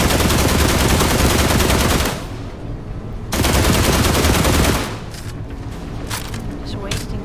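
Gunfire from shooting at an enemy in The Last Caretaker video game: dense rapid bursts, loud and close, halting briefly, resuming, then thinning to scattered shots.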